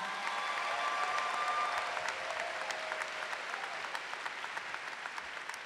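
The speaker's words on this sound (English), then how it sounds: "I want you to give a big round of applause for all of them" A convocation ceremony crowd at UNC-Chapel Hill applauds the facility and residential staff, a dense, even patter of many hands that stays strong throughout and eases slightly toward the end, with no speech over it.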